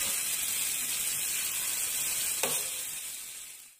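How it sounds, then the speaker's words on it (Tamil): Kerala sweet appam frying in hot oil, a steady close, dense sizzle and bubbling hiss throughout with one brief stir or clink midway, fading at the end. "எண்ணெயிலேயே தான் வேகணுங்க"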